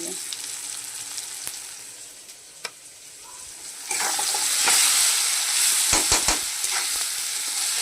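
Tomatoes frying in a pan for a bhetki fish kalia curry, with salt and a little sugar added, sizzle steadily; the sizzle swells louder about halfway through, with stirring clatter.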